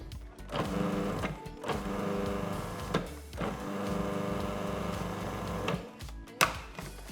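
A food processor pulses sugar into a short-crust pastry mix for mince pies, with several short motor bursts separated by brief pauses, moderately quiet and with no talk.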